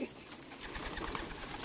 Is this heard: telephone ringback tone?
no